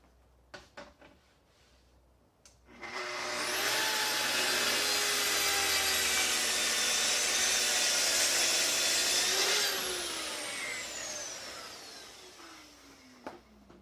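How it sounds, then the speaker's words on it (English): A Festool rail saw cross-cuts the wood sides of boxes on a cut table: a few knocks as it starts, then a loud, steady whining cut of about six seconds, winding down as the blade slows, with no talking. "grab your rail saw, and here we go"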